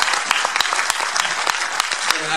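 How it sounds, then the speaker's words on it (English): Audience applause at a live concert in Lille for the sound, lighting and organising crew, loud and close, with many sharp individual claps standing out above a dense continuous roar of clapping. "Give them a big round of applause."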